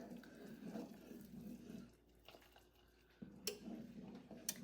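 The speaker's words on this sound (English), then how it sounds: "we're going to then add the water" Water pouring into a pot of apple pie filling at home, a soft steady trickle and splash broken by a short pause, then resuming with a couple of sharp clinks.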